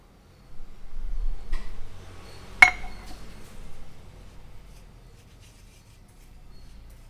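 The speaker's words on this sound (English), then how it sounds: "Prepare a wet batter by mixing the remaining dry flour with water" Flour and water are mixed into a wet batter in a bowl, giving quiet rubbing and stirring with one sharp clink of utensil against the bowl, then soft scraping fading toward silence.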